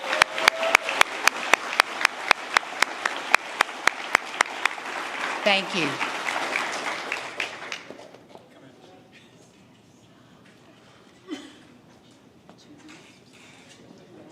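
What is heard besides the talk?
graduation audience applause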